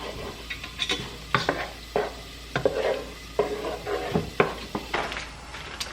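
Onion cooking in a pan while a Thanksgiving feast is prepared, with a soft continuous sizzle broken by close stirring scrapes and clinks of utensils against the pan.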